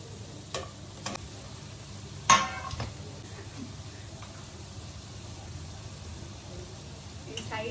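Crab fries in masala in a pan with a soft, continuous sizzle, broken by a few sharp utensil knocks early on and one louder clatter.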